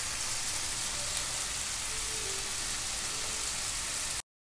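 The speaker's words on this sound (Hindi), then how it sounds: "इन्हें तेज़ फ्लेम पे हम सिकने देंगे करीब 3 से 4 मिनट" Parboiled baby potatoes frying in a pan over a high flame, a steady close sizzle and crackle that carries on evenly without a break and then stops abruptly.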